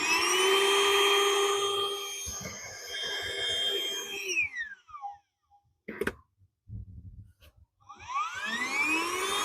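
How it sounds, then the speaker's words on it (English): A truck bed air mattress's built-in rechargeable electric pump whines loudly and steadily, its pitch sliding as it spins down, then stops with some handling clatter before starting up again with a rising whir. "if we twist it the other way, that sucks out the air so you can pack it"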